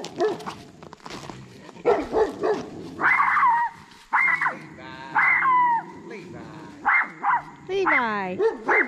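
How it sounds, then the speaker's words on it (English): A friendly dog barks and yips in repeated short, close bursts, with a few whimpering cries between them, while people talk nearby. "This dog's friendly."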